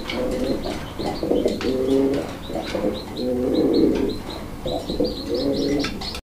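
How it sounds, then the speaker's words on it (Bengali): Newly bought pigeons in a pair, coo in repeated low, throaty phrases, close and fairly loud, with faint chirps and light background noise between the calls. "নতুন কবুতর কিন্তু।"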